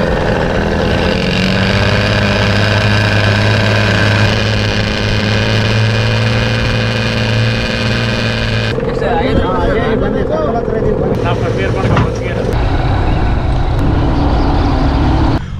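Motorboat engine ferrying passengers and a motorbike across water near Kishkindha, a steady droning hum running throughout with a shift in pitch midway, while people talk over it.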